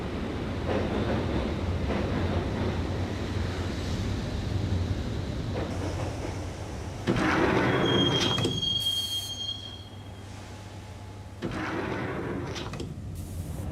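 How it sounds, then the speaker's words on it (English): A subway train ride in the Max Payne PC game: loud continuous rumble and rattle of rail cars, with sharp metallic wheel squeals and a high screech midway, then the roar drops and swells again. "the train doors had already shut behind me, and I was in for the ride"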